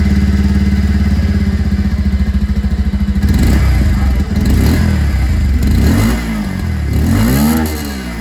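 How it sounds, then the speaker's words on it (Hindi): A 2024 Bajaj Pulsar 150 motorcycle idles with a steady, loud exhaust thump close by, then is revved in rising and falling blips of throttle before settling back, with no voices over it. "अगर आप लोग इसकी एग्जॉस्ट देख रहे हैं दोस्तों, तो साउंड आप लोग इसकी सबसे पहले सुन लीजिए।"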